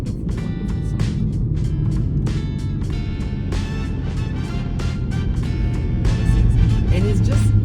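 A 2023 BMW M3 Competition Touring engine and exhaust drone steadily under a dense rumble, sounding from inside the car, with sharp ticks and knocks throughout and a rise in level near the end.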